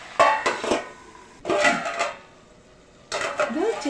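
A metal lid clatters onto a cooking pot in a home kitchen, giving a few sharp clinks and scrapes. A short rattling burst follows after a pause, and no one speaks.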